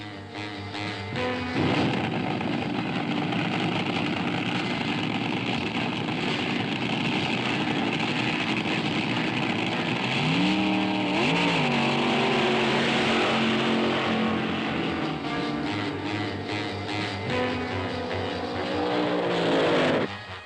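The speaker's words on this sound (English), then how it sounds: "At a big meet, cars run down the drag strip every 28 to 34 seconds." 1960s drag racing cars blasting down a drag strip, a loud continuous engine roar with rising pitch sweeps as cars accelerate past, dense and sustained with no talking.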